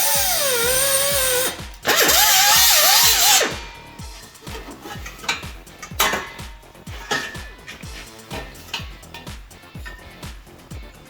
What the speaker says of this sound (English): I'm gonna cut it right here, so the muffler will still be hanging by the hanger